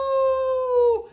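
A human voice imitates a wolf howling at the moon, delivering one long sustained, steady tone that slides down slightly at the end, close and fairly loud with no other sound around it.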